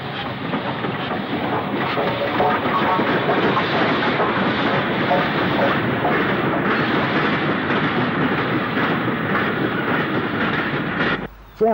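Steam locomotive 48545 heads a Northwich to Corkickle freight train beside the St Helens Canal, giving a loud, sustained rumble and clatter of wagons that holds steady and then cuts off abruptly near the end.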